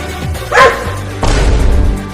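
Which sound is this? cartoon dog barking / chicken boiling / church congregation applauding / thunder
cartoon dog barking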